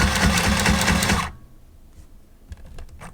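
A sewing machine stitches seams on a laptop bag during a workshop repair, with a loud rapid whirring burst that stops abruptly after about a second, followed by quiet handling sounds.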